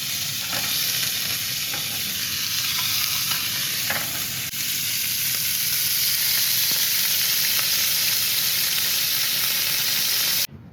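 Lightly crumbed fish fillets fry in a pan at a coastal dune campsite, giving a loud, continuous crackling sizzle with a steady steamy hiss and occasional small pops throughout, and no talking.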